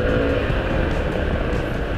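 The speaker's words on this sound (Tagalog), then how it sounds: "Ayan, higaan natin yung motor. Tapos accelerate natin." Rusi XDV 175 motorcycle accelerating out of a curve on an open road, a loud continuous engine roar mixed with rushing wind, close and steady.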